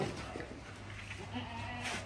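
Desi goats on a farm in a Bathinda district village bleat a few times in short, scattered calls over a low rural background hum, moderately near.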